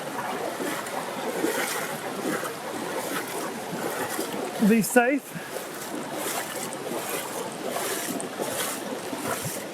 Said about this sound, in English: we're going to be walking through some quick water here